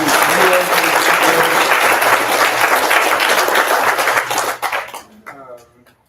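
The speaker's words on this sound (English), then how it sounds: "we'll give her a little round of applause for that" Sustained applause from a gathering at a memorial, steady and fairly loud, honoring an aunt for organizing the catering, then tapering off into a few scattered claps and murmured voices.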